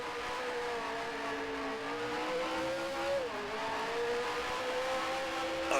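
A race car engine in the Grand Prix Legends (GPL) sim racing game drones at high revs, with a steady whine that drops and climbs again at a gear change, loud and continuous with no talking.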